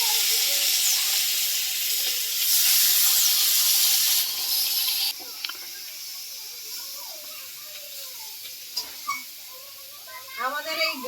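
Fish sizzles in hot oil in a wok, a loud steady hiss for several seconds that drops to a softer crackle, with speech-like sounds in the later part.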